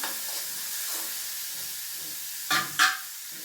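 Vegetables sautéing in a pan give a soft, steady frying hiss close by, with a couple of louder stirring clatters near the end and no speech.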